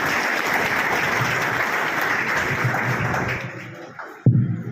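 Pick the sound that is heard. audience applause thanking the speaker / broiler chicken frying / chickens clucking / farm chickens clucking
audience applause thanking the speaker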